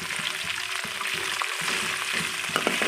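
Cumin seeds and curry leaves hit hot oil with a continuous crackling sizzle, close and moderately loud, with scattered sharper pops and spits over the steady hiss.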